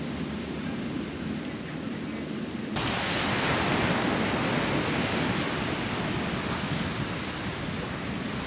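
Ocean surf breaks on the shore in a continuous broadband roar, growing louder and fuller after a few seconds and holding steady throughout, with wind adding to the wash and no voices.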